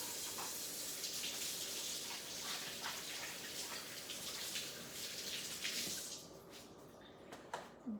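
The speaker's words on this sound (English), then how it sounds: "I'm gonna wash my hands." Tap water runs steadily into a kitchen sink as hands are washed, a close splashing rush that stops abruptly near the end.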